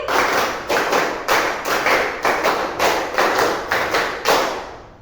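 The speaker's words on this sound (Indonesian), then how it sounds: "kita ice breaking tepuk 1 sampai tepuk 5" Children in a Christian religion class clap through a counting ice-breaker, about ten sharp, evenly spaced group claps in quick succession, loud and close with no talking.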